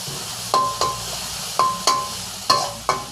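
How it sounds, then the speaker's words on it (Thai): Garlic and chili stir-fry in hot oil for a beef kaprao with glass noodles, a steady sizzle punctuated by rhythmic, sharp scrapes and taps of a spatula against the pan roughly every half second, close and clear. "น้ำมันร้อนก็ใส่กระเทียมก่อนเลยครับ พริกครับ"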